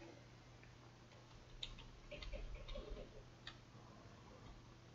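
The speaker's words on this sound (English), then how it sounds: "That was a clock." A clock ticks steadily inside a house in the ghost-hunting game Phasmophobia, faint and even, under quiet room tone with a few small knocks and shuffles.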